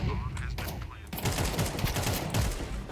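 Rapid gunfire in Counter-Strike 2 during a competitive match: dense, loud bursts of shots rattle continuously for three seconds, with overlapping reports and game effects.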